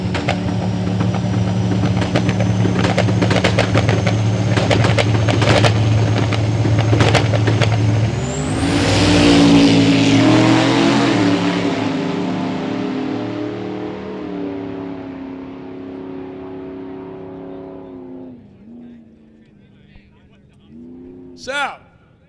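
Turbocharged Nova drag race cars launch down the strip at a motorsport event, loud engine roar sustained and then rising in pitch as they pull away and fade, with a brief engine blip near the end and commentary over it.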